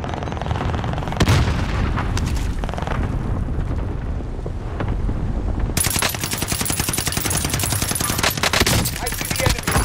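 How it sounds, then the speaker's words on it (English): Call of Duty Warzone Pacific battle on Caldera in Resurgence mode, with heavy booming blasts amid dense rapid gunfire, loud and continuous, the chaos growing harsher and brighter midway through. "Grenades flying."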